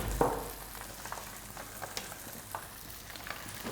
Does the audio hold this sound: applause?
no